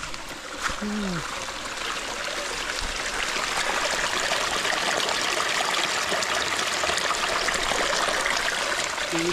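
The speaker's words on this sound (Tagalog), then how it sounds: "Sapa." A mountain stream flows steadily in a broad, continuous watery rush close by, with a brief voice near the start.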